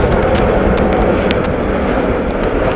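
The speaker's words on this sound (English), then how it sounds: "I can also hear a Lifeliner helicopter." A Lifeliner air ambulance helicopter passes overhead near Amsterdam Schiphol in rainy, windy weather: a loud, steady, broadband engine-and-rotor roar with wind buffeting, continuous throughout and with no talk.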